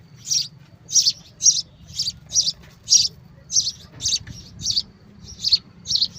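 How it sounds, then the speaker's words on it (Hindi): A small bird chirps in a steady series of about a dozen short, bright calls close by, with a low, rumbling background hum underneath. "ये रही जी चिड़िया, ये देखें ओ उड़ गई"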